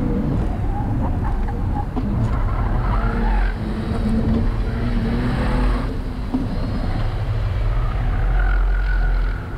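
A Mercedes AMG car skids and slides on a track during timed laps, tires hissing and squealing over a loud, continuous engine roar, close and sustained throughout.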